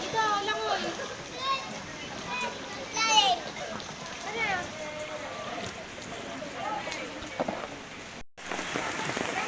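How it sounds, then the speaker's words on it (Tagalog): Rain patters steadily on a surface throughout, mixed with children's chatter and shouting nearby. "Ang lakas ng ulan. Grabe yung ulan"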